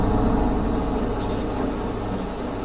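Long BNSF freight train rolling past alongside, a steady broad rumble with a constant rail hum, loud and close throughout.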